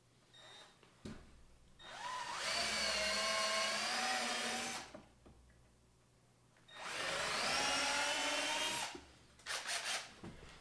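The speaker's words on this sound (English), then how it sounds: "I'm driving the first screw, or drilling the first hole" A power drill bores a screw hole into wood while an 8-foot workbench is built, running in two long steady bursts of about three seconds each, close and loud, with a short whir at the end.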